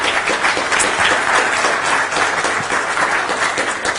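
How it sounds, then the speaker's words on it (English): An audience at a public debate on a United Ireland applauds, sustained dense clapping from a crowd lasting the whole stretch without letting up. "Give her a huge round of applause"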